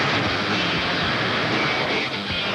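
An unlimited modified class pulling tractor engine roars loudly and continuously, a dense, steady wall of mechanical noise with no pauses and no voices over it.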